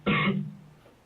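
A man's single short cough in a police interrogation room, close and fairly loud, fading quickly into quiet.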